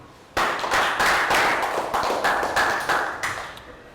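A classroom of children claps in a short, loud round of applause after a math answer, with uneven individual claps bunching together and fading out toward the end.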